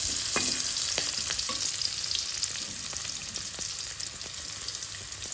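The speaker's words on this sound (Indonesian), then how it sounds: "kita masukkan bawangnya. Ini kita aduk sampai benar-benar wangi." Shallots fry and are stirred in a pan, a continuous close sizzle with occasional scraping clicks from the spatula, steady and fairly loud with no talking.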